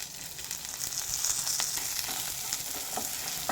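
Ginger, tamarind, coconut and curry leaves sauté in a hot pan for pirandai chutney, giving a steady, close sizzle and crackle throughout with small bursts of spattering and no voices.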